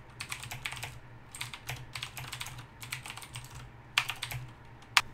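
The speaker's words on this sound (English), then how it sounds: "I will just give you a quick typing test here. I'll type a couple sentences so you'll know exactly how it" Brisk typing on a CM Storm Cherry MX Blue mechanical keyboard, a steady run of crisp clicky keystrokes close to the mic with a couple of sharper, louder key hits near the end, no voices.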